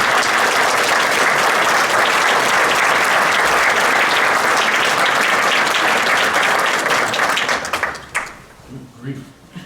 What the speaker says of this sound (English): Let's give Peter a wonderful round of applause,